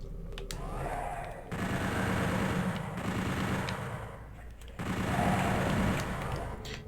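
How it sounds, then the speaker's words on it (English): Super shotgun blasts in Doom 64 land as dense, loud bursts of gunfire, several overlapping booms in close succession, with a brief lull between two heavy volleys. "I just super shotgun them"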